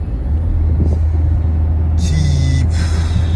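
A small Citroën C3 drives along, its engine giving a steady low rumble with road noise, loud and continuous, with brief hissing bursts partway through.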